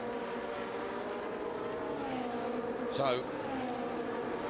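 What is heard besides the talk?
race cars on track at Mugello, Trofeo Pirelli race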